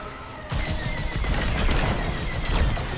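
Starfighter cannons in Star Wars: Squadrons blasting at turrets, a dense rapid barrage of loud laser shots and booming impacts that starts abruptly and continues without pause.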